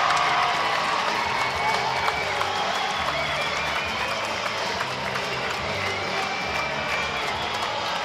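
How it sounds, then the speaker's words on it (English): Ice hockey arena crowd, Dundee Stars versus Guildford Flames, applauding and cheering steadily throughout as a player heads back to the bench, a dense continuous wash of clapping and crowd noise at fairly even loudness. "Rapturous applause for him heading back to the bench."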